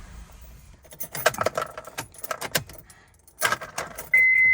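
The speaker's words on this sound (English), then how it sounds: "Let me shut the car off." Keys jangle and rattle in the ignition of a 2004 Honda CR-V as it is shut off, with a busy run of metallic clinks, a short pause, then more jingling before a steady electronic chime sets in.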